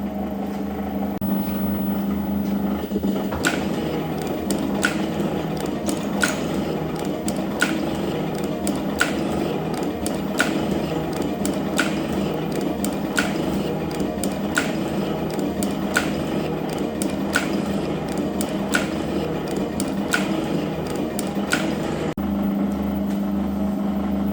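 A metal shaper machine makes a cutting pass, its ram clacking in a regular rhythm of evenly spaced strokes over a steady mechanical hum, close and moderately loud.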